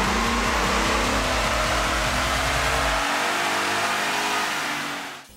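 A 6.2 liter V8 in a 2013 Ford Raptor revs hard on a dyno with a VMP tune, climbing through a loud sweeping pull for about three seconds before the engine note cuts away into lingering roar that fades out.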